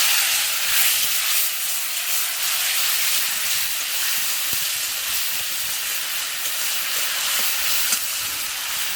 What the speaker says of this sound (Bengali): ধনে গুঁড়ো আর এই টমেটো পেস্ট এই সব উপকরণগুলো দিয়ে ভালোভাবে কষিয়ে নিতে হবে